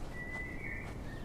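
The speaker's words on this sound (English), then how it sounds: "You hear the birds chirping?" Birds chirp in the Flight Simulator 2024 game ambience, a faint, thin whistling tone that holds for about a second over quiet background noise.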